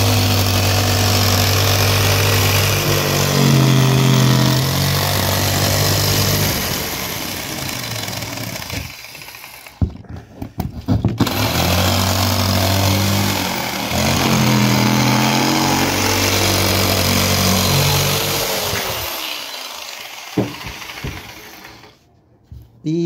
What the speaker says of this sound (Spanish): vamos a usar nuestra caladora